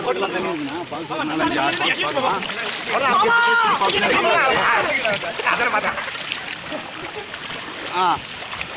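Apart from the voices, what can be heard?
boat ride on the water at Hogenakkal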